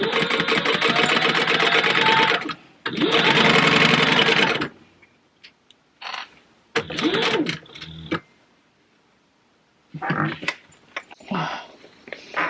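Sewing machine stitching leather for a wallet, running in two long loud bursts of steady mechanical whirring, then shorter stop-start runs with pauses and quiet handling between.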